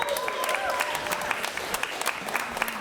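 A comedy club audience claps and cheers in scattered bursts, sharp individual claps standing out over a steady crowd wash, with a voice briefly audible through it.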